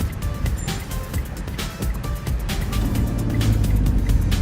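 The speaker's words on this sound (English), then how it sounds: "Engine is a bit noisy." Small Smart city car engine droning steadily while driving, a broadband rumble that swells slightly louder toward the end, with road and wind noise mixed in.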